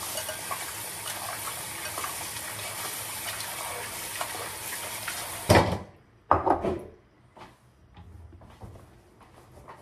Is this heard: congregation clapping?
no